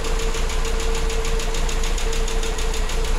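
A VW Gol CHT 1.6 engine idling on gasoline, a steady, even low rumble with a rapid regular pulse and a constant hum, loud and close, with no voices.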